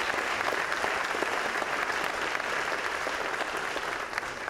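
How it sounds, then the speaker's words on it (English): A full audience at the Peralta Colleges Flex Day gathering applauds in a dense, sustained roar of clapping that stays steady for several seconds, with no speech over it. "I think that deserves a round of applause"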